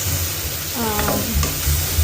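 Garlic paste sizzling in a pan for a spinach and garlic dish, a steady close frying hiss with brief stirring scrapes over a low kitchen hum.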